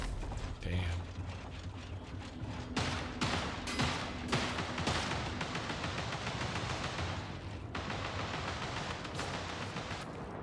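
Video game gunfire crackles through a dense, busy mix of repeated shots and explosive bursts, loud and continuous with some overlapping game noise throughout.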